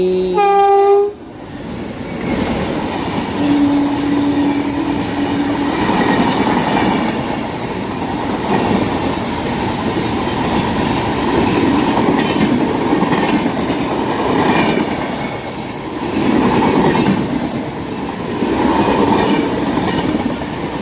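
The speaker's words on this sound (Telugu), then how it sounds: "దుర్గాడ గేట్లో ఇంకో క్రాసింగ్ ఏం ట్రైన్ ఇది" A crossing train at Durgada Gate passes close by on the Kakinada to Visakhapatnam line: a loud horn blast opens, then a long, steady clattering rumble of wagons rolls past, surging and fading in waves.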